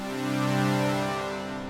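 A thick, rich sustained tone from the Twin 3 synthesizer's default preset holds a single chord for under two seconds, slightly swelling then easing off.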